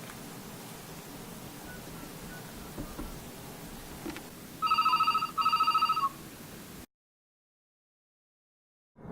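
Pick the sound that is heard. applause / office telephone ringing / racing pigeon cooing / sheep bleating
office telephone ringing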